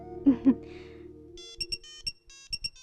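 A phone ringtone in a Telugu film scene: after a couple of low thuds and a fading tone, short bright electronic beeps sound in a quick repeating pattern, clear and close in an otherwise quiet room.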